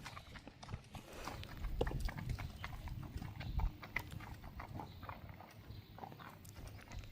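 A bay gelding's hooves clip-clop in a steady, moderately close walking rhythm over a loud, continuous outdoor background noise.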